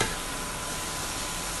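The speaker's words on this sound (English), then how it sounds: "when you're sauteing them together, the tofu will absorb the flavors of the garlic and" Tofu sautéing with garlic and onions in a pan gives a steady, soft, even sizzle, close and continuous with no talking.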